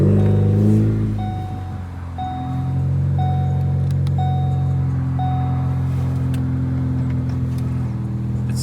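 A 2016 Ford Focus with a manual transmission is started by push button; the engine catches and settles into a steady, close idle hum with a faint repeating chime over it.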